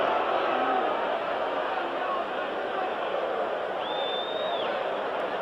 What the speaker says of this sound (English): the crowd hates it, and you can hear them react in the background